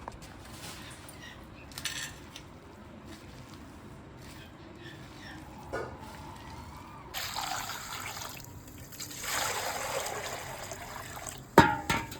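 Fish is rinsed by hand in water in a vessel at home, with close sloshing, trickling and light clinks that grow louder and splashier in the second half, ending with a sharp clatter and a little talk.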